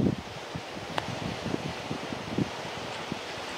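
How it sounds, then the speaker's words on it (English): Soft, steady wash of ocean waves and wind, with faint scattered crackles and rustles; no talking. "Can you hear the waves?"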